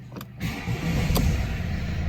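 A 2013 Mercedes C220 CDI diesel with 67,000 miles cranks with a short whir, then catches and settles into a loud, steady, close idle rumble, with no talk.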